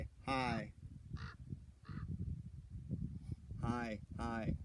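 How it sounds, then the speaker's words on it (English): A crow caws several times while flying past outdoors, loud harsh calls near the start and a pair near the end, with a person talking underneath during cactus repotting. "You hear the crow flying by."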